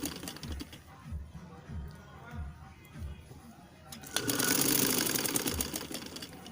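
Sewing machine stitching a katori blouse, first running in short rhythmic bursts with pauses, then a loud continuous fast whirr of stitching, close by.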